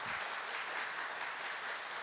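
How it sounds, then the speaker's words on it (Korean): Church congregation applauding to welcome a newly appointed deacon during a Sunday worship service, a steady wash of clapping across the whole short stretch. "환영하는 마음으로 박수해 주시겠습니다"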